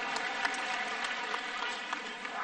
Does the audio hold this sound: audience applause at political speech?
yes